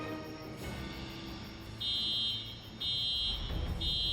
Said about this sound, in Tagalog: For alarm po yun, sir.